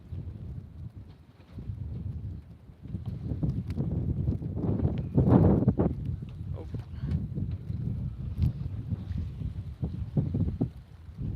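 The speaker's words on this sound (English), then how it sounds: "just let me know if it's too windy." Wind buffets and rumbles across an outdoor microphone at a coastal lookout on a shark-watching outing, a steady low roar that swells in gusts, with faint voices mixed in.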